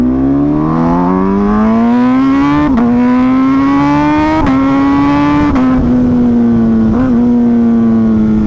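A fast Italian motorcycle's engine, heard from the rider's position, drones loud and continuously. Its pitch climbs steadily, then dips sharply at four quick gear shifts before rising again.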